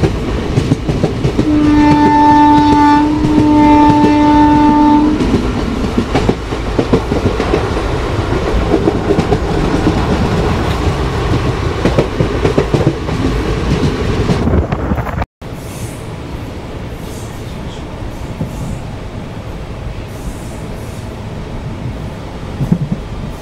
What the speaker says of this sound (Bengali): ট্রেন কিন্তু ছেড়ে দিল তমলুক রেলওয়ে স্টেশন।